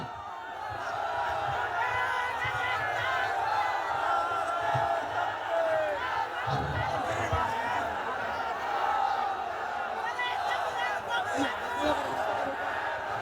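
A large crowd at an outdoor religious sermon in Pekua, Cox's Bazar, chants the Takbir. Massed voices roar together in a sustained, rhythmic, slightly distant swell.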